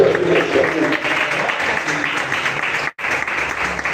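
A church congregation claps in steady, dense applause during a sermon, the sound filling the room at a strong level before cutting out abruptly near the end and resuming.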